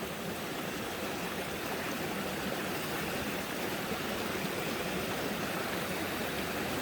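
Water rushes steadily nearby, a continuous even roar of a flowing creek with no voices.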